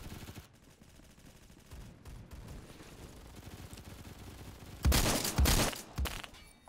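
Gunfire in the Roblox game Phantom Forces: faint scattered shots at first, then a loud, rapid burst of several blasts near the end.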